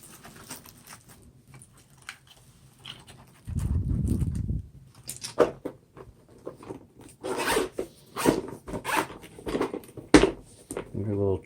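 A GoPro camera is slipped into a plastic Ziploc bag, with crinkling plastic rustle and scraping, then a series of close, sharp zipper-like rasps and handling bursts near the end.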